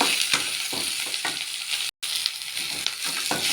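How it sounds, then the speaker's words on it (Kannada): Onions frying in a pan with ginger and garlic, a continuous close crackling sizzle with soft stirring scrapes, briefly cut by a moment of silence before the hiss resumes. "ಈರುಳ್ಳಿ ಒಂದು ಸ್ವಲ್ಪ ಫ್ರೈ ಆಗಲಿ."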